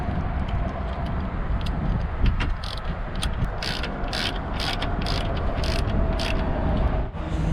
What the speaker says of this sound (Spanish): Vamos a poner los tornillos de arriba.